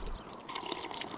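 A character in the survival game Miasmata takes a swig of water, giving a brief soft watery gulp and trickle against a quiet background, with no talk.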